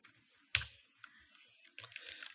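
Computer keyboard typing at close range, a few soft keystrokes broken by one sharp louder click, then a quick patter of keys toward the end.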